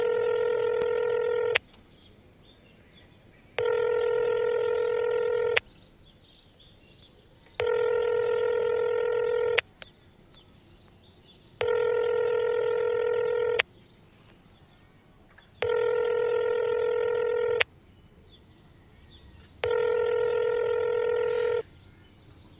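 A telephone call rings out in a repeating ringback pattern, six evenly spaced tones each about two seconds long with pauses between them, clear and alone with no talking.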